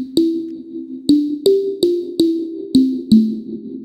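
Percussive plucked notes with a reverb effect whose gain is modulated by a convolution plugin, seven separate hits with sharp attacks and short tonal tails in an uneven rhythm.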